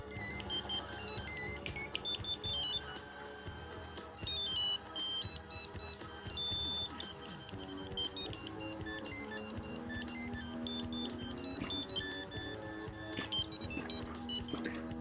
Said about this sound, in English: We've got a bunch of ringtones to choose from.